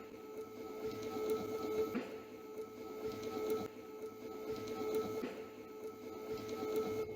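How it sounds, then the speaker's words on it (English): Peristaltic pump turning at 129 rpm, pushing juice through silicone tubing in a lab workshop setup, a quiet, steady mechanical whir with a faint repeating tick and hum at an even pace. "The peristaltic pump is rotating in 129 rpm."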